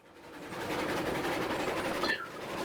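A train rolls along the track in the Railroads Online game on a steam-era line with a sharp curve, giving a steady rumbling clatter of wheels that swells briefly near the end.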